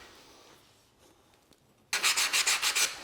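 Sandpaper or a sanding sponge rubs along a tile edge in about six quick, loud back-and-forth strokes after a quiet start.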